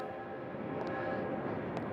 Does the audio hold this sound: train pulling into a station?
yes